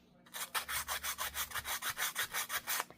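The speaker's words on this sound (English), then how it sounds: "So you can just come back in and maybe sand a bit," Sandpaper rubbing back and forth over the edges of an altered card, a quick rhythmic series of about a dozen soft scratchy strokes, close and fairly faint.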